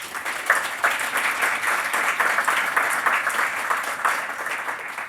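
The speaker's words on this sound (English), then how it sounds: "Audience, would you give our debaters a round of applause?" An audience at a live education policy debate gives the debaters a round of applause, a close, lively burst of clapping with a slightly uneven rhythm that carries steadily for several seconds.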